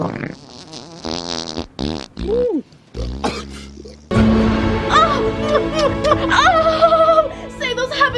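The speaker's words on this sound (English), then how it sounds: "Camels farting." Camels let out a series of loud, rumbling flatulent blasts and grunting squeals, close and repeated, with brief spoken exclamations between them and a steady, drawn-out stretch near the end.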